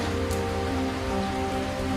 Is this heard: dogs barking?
no